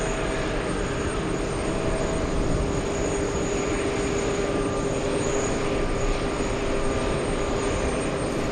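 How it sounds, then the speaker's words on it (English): Boeing 777 airliner arriving at JFK airport, a steady, loud broadband engine roar with a constant whine held throughout, no voices over it. "The big 777 arriving 8 minutes late."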